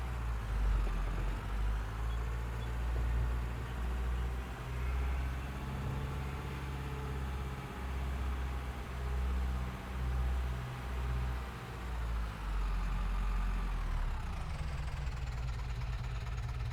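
A small tractor engine idles steadily at close range, a low, even rumble with a slight uneven pulse that holds for the whole stretch, with no talk over it.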